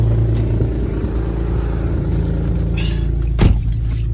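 Nissan G37 driving at night, heard from inside the cabin as a steady, loud low engine and road rumble, with a brief thump near the end.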